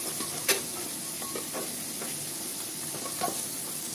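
Round pieces of mutton and bone with onions are stirred in a hot pan in a village kitchen, giving a steady, close sizzle with a few scraping strokes and one sharper knock near the start.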